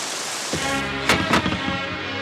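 Rain pours down steadily in an outdoor film scene as a dense broadband hiss, with a low thud and two sharp bursts near the middle layered over the downpour.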